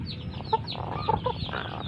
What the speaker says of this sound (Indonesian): Nah, ayam kan masih ngorok.